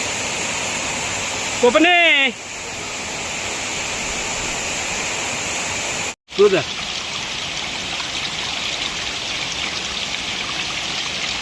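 Chaulabhaja waterfall in the forest near Khunta, Baripada, Odisha, roars as a steady, loud wash of water through the whole stretch, with brief bursts of people talking over it.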